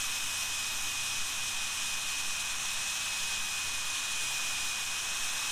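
A model jet turbine engine held steady at 112,000 RPM, pump power 250, gives a continuous bright, hissing whine with a sharp high tone, loud and unbroken with no voices.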